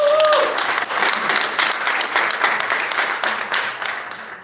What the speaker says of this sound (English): welcoming round of applause to our mayor